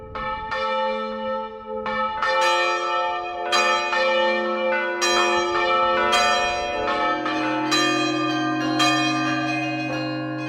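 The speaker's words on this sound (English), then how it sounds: "Bells across America for fallen firefighters is just one of the many ways we pause today to remember." Church bells ring to honor fallen firefighters, a slow sequence of loud, resonant strikes with long overlapping hums, sounding alone without voices.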